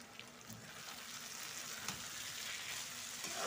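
Potato and capsicum masala sizzling steadily in a pan while frying, a close, continuous crackle with no talking.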